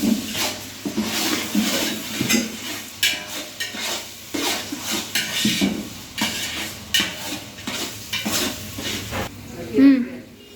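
A large ladle stirs mutton biryani in a sizzling pot, scraping and clattering in an uneven rhythm over a steady frying hiss, close and fairly loud, with a voice speaking now and then.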